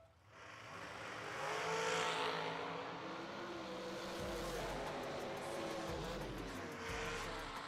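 Drag racing cars work the throttle down the track, engines surging and revving at a distance, with rising roars and repeated low pulsing bursts over a steady background wash.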